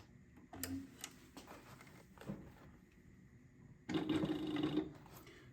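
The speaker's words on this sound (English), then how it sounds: "So I'm just going to go and start sewing." A SEWPRO 8360B high post industrial sewing machine with a needle positioning motor stitching in short bursts, a soft motor whir with rapid ticking needle strokes, the longest run near the end, quiet and close.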